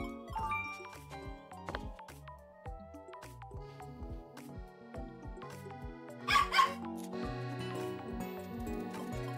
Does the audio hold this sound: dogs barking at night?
yes